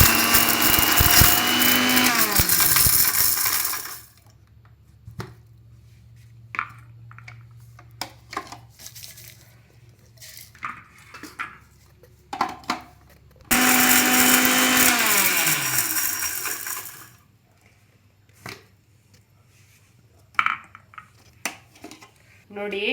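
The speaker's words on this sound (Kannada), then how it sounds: "ಇವಾಗ ನಾನು ಮಿಕ್ಸಿಲಿ ಇವೆರಡನ್ನು ತರ್ತರಿಯಾಗಿ ಗ್ರೈಂಡ್ ಮಾಡ್ಕೊಳ್ತೀನಿ. ನಾನಿಲ್ಲಿ ಫಸ್ಟು ಮೆಣಸಿನ ಹಣ್ಣನ್ನ ಸ್ವಲ್ಪ ಗ್ರೈಂಡ್ ಮಾಡ್ಕೊಳ್ತಾ ಇದ್ದೀನಿ." A kitchen mixer grinder grinds red chillies in two long loud whirring bursts, separated by quiet stretches filled with clatter and soft handling noises, with a voice talking between runs.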